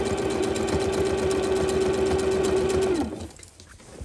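A sewing machine stitches in the ditch on a reversible tote bag, a steady close mechanical whir and rapid needle chatter for about three seconds before stopping abruptly into quiet room noise.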